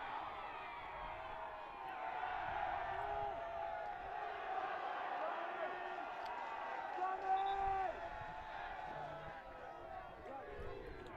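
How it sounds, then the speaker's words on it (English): Crowd at a university hockey championship final cheering and shouting, a broad swell of voices rising and falling with whoops, a commentator talking over it. "Crowd enjoying themselves, getting involved."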